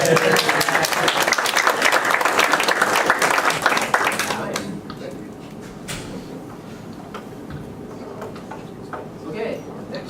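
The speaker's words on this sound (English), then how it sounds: "Should we keep clapping?" Conference audience at a KansasFest 2017 lightning talks session applauding, a dense roomful of clapping that breaks off abruptly partway through, leaving scattered claps, shuffling and faint room noise.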